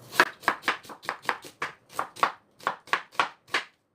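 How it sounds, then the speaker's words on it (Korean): An onion sliced thinly with a knife on a cutting board: about fifteen crisp, evenly spaced chops in quick rhythm, close and clear against a quiet background, with no talk. "얘는 이제 양파입니다. 이제 얇게 썰어 줄게요."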